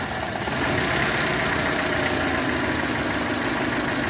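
A car engine idles roughly with a faulty, broken ignition coil connector on cylinders two and three, a steady close mechanical drone with uneven undertones throughout.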